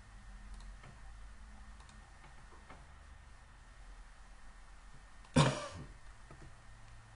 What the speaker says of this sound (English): Sorry, I just got a really bad cough.